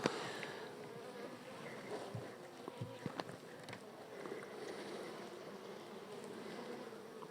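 Honey bees drone steadily over hive frames in a dense, even buzz. The swarm sounds close and continuous, with faint knocks and handling noises underneath and no talk.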